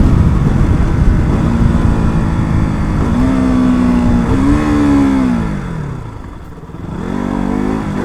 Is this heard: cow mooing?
no